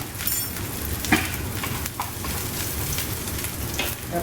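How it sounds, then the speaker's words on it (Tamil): Grated coconut fries in a pan, giving a steady, dense crackling sizzle close by, with a few faint scrapes of stirring over it and no talking. "பாதி தேங்காயை போட்டு வறுக்கணும்"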